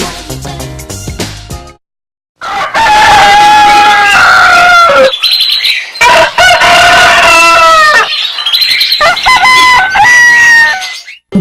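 A rooster crows loudly and repeatedly in long, strained calls, layered with clucking fowl, after a brief gap of silence; the sound is close and dominant, with some background crowd noise.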